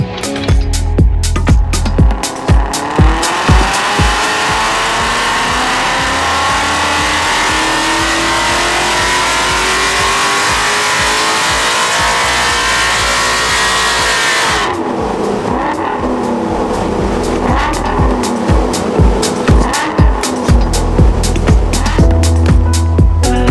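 A supercharged Ford Mustang GT on full-power ramp runs, its engine climbing in a long, loud rising pitch to a peak, cutting off abruptly, then pulsing through shorter revs near the end.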